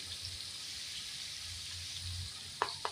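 Garlic paste and black partridge meat sizzle steadily in a hot karahi pan, a continuous close frying hiss, with two sharp metallic clinks of a utensil near the end.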